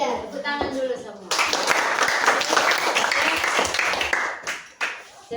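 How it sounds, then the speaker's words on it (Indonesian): A classroom group of teacher trainees claps hands together, a burst of lively applause that starts after a brief spoken line, holds for several seconds and fades near the end. "Tepuk tangan dulu semua"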